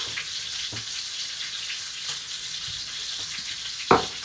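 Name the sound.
steak, garlic and mushrooms sizzling in cast iron skillet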